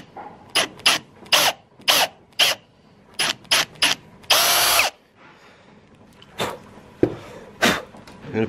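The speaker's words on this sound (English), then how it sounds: "drill that into the hole" A power drill bores into deer antler in short bursts, a series of brief loud grinding whirs separated by pauses, with one longer sustained burst midway, close up and without talk.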